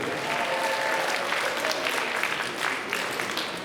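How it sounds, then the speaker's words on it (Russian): Audience at a last-bell school ceremony applauds the 11th-grade class, with dense, steady clapping throughout at full strength and no pauses. "Давайте же еще раз подарим бурные аплодисменты нашему 11 классу."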